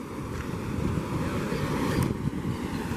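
Water rushes down the spillway of the Chico Gato reservoir dam in Jardim de Piranhas, a constant loud, rushing roar with some wind buffeting the microphone.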